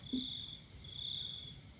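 Crickets chirp at night in an outdoor nature setting, a steady high trill that swells and fades, with a brief low croak near the start and quiet background ambience.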